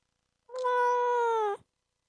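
A single drawn-out cat meow, about a second long, loud and close, with a clear falling tone at the end and silence on either side.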